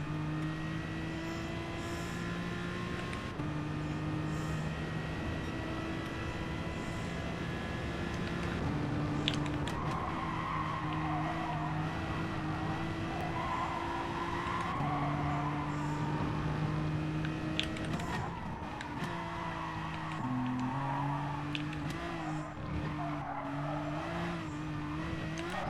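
A car does a burnout, its engine revving hard with squealing tires over a sustained roar, loud and continuous, with faint crowd noise around it.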